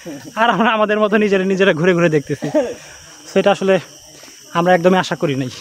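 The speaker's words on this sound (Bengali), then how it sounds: "বনের মাঝখানে ঝিঝি পোকা ডাকতেছে," Crickets in Lawachara National Park, a rainforest near Sreemangal, give off a steady, faint high-pitched drone that runs continuously beneath several stretches of close conversational talk.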